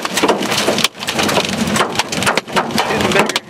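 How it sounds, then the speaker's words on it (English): Baseball-sized hail pounding a car during a Texas tornado storm, a loud dense barrage of hard impacts and clattering hits on the vehicle, continuous with brief lulls. "Tornado warning, baseball-sized hail."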